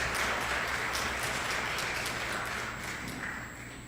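Steady, fairly faint applause from the room at a New Hampshire state committee hearing on a Convention of States, a dense wash of many hands that tapers slightly near the end.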